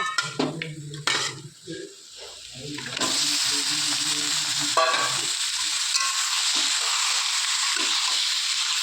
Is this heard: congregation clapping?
no